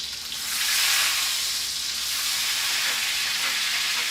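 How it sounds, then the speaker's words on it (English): Garlic and herbs sizzle loudly in foaming melted butter in a pan, a dense, continuous hissing fry with no break, heard close up and alone. "once all the butter's melted and it's starting to foam all over, I'm going to go in with my herbs"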